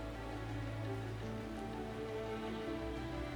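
Steady, dense monsoon rain pouring down without pause in Meghalaya, India, a continuous wash of drops hitting surfaces close by.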